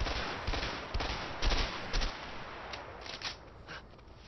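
Gunshots from a single-shot long-range gun in A Way Out, a series of separate, fairly quiet cracks spaced roughly half a second apart over a low background, fading slightly toward the end.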